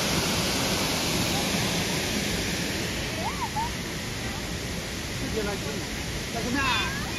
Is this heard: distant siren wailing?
no